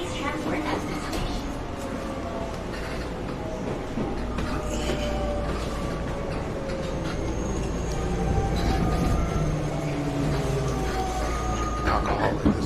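A train rolls into Kurihashi station with a steady rumble, wheel squeals and rising brake tones, heard from inside the carriage and continuous throughout.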